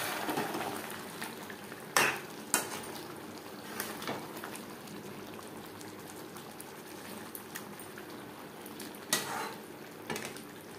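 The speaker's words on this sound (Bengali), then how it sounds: "আমি বিরিয়ানির জন্য মাংস রান্না করছি" Meat cooking in a pan with tomato paste for chicken biryani, a low, quiet bubbling sizzle with a few sharp clinks of a utensil against the pot.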